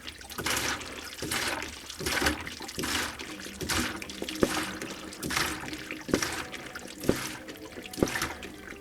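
A hand-worked kerosene siphon pump draws wet clay slurry in rhythmic sloshing, gurgling strokes, each pump bringing a burst of liquid noise with small knocks, close and steady.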